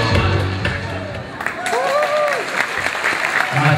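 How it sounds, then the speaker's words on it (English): Crowd applause and cheering for a bronze medalist at a senior awards ceremony, loud and sustained, with whoops and a shouting voice rising above the clapping throughout. "round of applause for medalist number 154"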